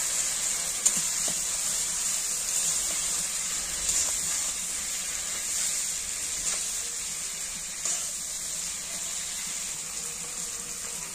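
Spice paste for a prawn malai curry sautéing in oil after a splash of water, giving a steady, even sizzling hiss that runs throughout with only faint, scattered crackles.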